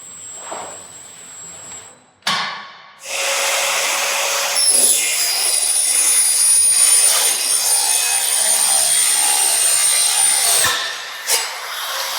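A Schlebach SPM profiling machine cuts a roof rafter with a loud, sustained mechanical whine and rushing noise that holds steady for several seconds and then drops away, after an abrupt clunk at the start.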